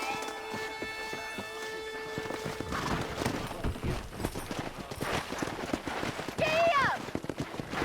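Horses gallop in the Western video game Red Dead Redemption, a quick clip-clop of hooves with a brief whinny near the end. Ringing tones and talk mix in beneath the hoofbeats.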